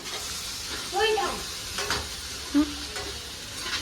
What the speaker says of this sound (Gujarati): મરચા તળી નાખ્યા